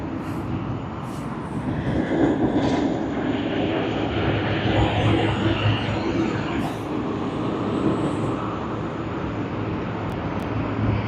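An aircraft at Sydney Airport roars through its takeoff as a steady broadband jet rumble that rises slightly and then holds, moderately distant and continuous, with no speech over it.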